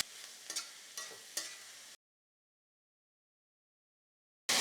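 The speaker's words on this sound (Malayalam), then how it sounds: "ഇതും ജസ്റ്റ് ഒന്ന് ഇളക്കിയാൽ മതി 1 മിനിറ്റ് നേരം." Cabbage and capsicum stirred in a hot pan with salt, a few sharp scraping strokes over a soft sizzle for about two seconds, then silence before a loud burst at the end.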